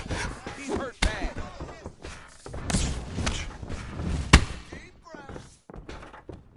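Punches and kicks land in a UFC fighting game, a series of sharp thuds and thumps at irregular intervals, one especially hard hit near the end, under a commentator's continuous talk.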